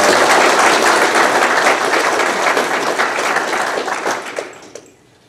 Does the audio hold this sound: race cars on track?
no